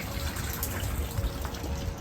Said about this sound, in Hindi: सड़क के किनारे नाली में कैसे पानी बह रहा है।